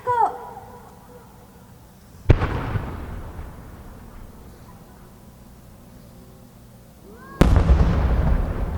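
Two 8-inch split-shell fireworks burst at an outdoor display, each a sharp, loud boom that rolls into a crackling, echoing decay. Faint whistling rises are heard before each burst.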